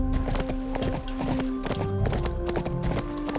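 Rapid clip-clop hoofbeats of a galloping horse in the video game Barbie Horse Adventures, steady and loud over layered game music, with a brief neigh.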